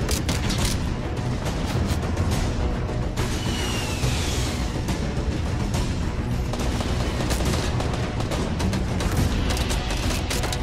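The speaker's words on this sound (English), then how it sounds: "Here, I'm gonna shoot a launcher." Rapid gunfire and explosive blasts from a Fortnite Battle Royale match, a dense, continuous barrage of shots and booms filling the whole stretch without speech.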